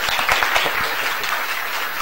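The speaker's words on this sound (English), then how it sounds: "Okay, so give me a big round of applause now." An audience at a UNESCO schools teacher forum in Okayama gives a round of applause after a presentation, a thick burst of many hands clapping that stays steady and then eases slightly toward the end.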